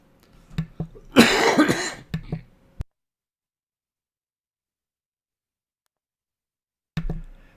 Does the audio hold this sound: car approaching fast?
no